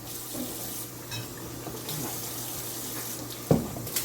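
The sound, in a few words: water from a tap washing the tops of cans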